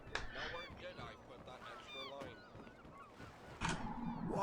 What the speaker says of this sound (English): Ah, the authentic sound of seagull.